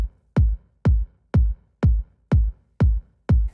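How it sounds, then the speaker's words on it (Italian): Saturated four-on-the-floor kick drum processed with the Ableton 12 Roar saturator, its highs scooped out, thumping alone in a steady, evenly spaced beat of eight punchy hits with short decays. "cassa dritta, il kick che ho saturato e scavato nelle alte"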